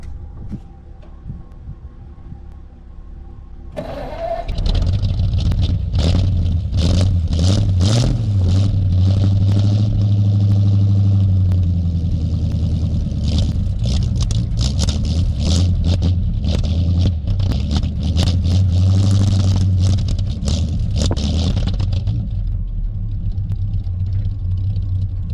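A 1947 Ford truck engine cranks and starts after a few quiet seconds, then runs with a steady low rumble, rising briefly as it is revved.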